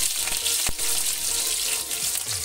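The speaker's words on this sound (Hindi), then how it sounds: "तो बरी को भी फ्राई कर लेना है और बरी हमारी फ्राई हो जाएगी तो यहाँ पे हरी मिर्ची हमें डाल देना है" Bari (dried lentil dumplings) and green chillies fry in oil seasoned with panch phoron. A bright, crackling sizzle fills the pan continuously and sounds close.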